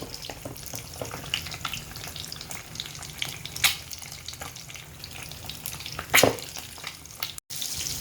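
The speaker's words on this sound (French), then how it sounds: "Là, je mets les œufs à la poêle" Eggs fry in a pan in a continuous close sizzle, broken by scattered crackles and a couple of sharper scraping stirs.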